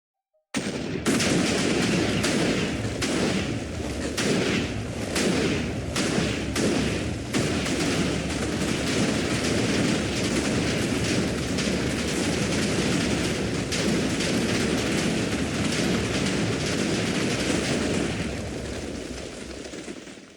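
A massive TNT explosion in Minecraft sets off a long, dense barrage of booms and crackling blasts that stays loud for nearly twenty seconds before tapering off.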